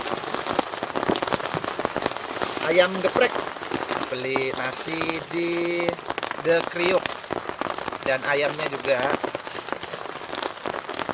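Rain falls steadily at a solo campsite, a dense close patter on a surface, while a person talks over it and faint music plays in the background.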